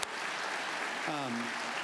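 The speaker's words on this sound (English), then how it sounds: "I'd like to give another round of applause to our award recipients today, to Matt, the Junior League, Susan, and Ryan" Steady applause from a luncheon audience for award recipients fills the clip, with a voice briefly starting to speak over the clapping near the end.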